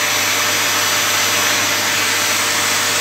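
A vacuum cleaner runs loud and close, a steady, unbroken whine and roar throughout with no change in pitch and no voices.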